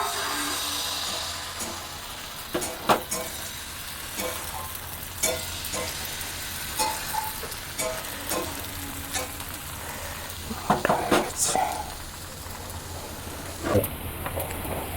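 Batter for patishapta pitha sizzles in hot oil in a pan, a steady moderate frying hiss broken by sharp crackles and pops, with faint scraping and no talking.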